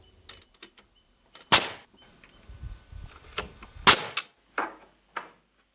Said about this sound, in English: One of the beauties of a nail gun is that it can nail loose pieces